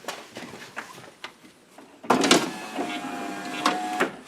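A car power window, just adjusted, runs smoothly on its electric motor: a few soft clicks and bumps, then a sudden steady whirring hum that carries on for about two seconds.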